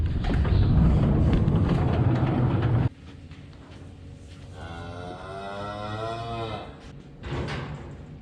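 A bull calf in a pen lets out one long, drawn-out moo at close range after a burst of loud rumbling noise, followed by some fainter shuffling.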